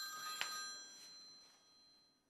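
A telephone rings once in a domestic scene of a Chinese TV drama, a faint electronic trill that fades away with no talking over it.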